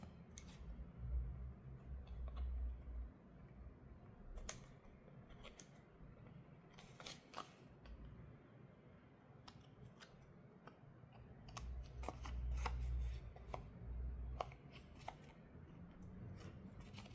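Scissors trimming material at a close workbench: faint, scattered snips and crisp clicks spread irregularly through a quiet room with no voices.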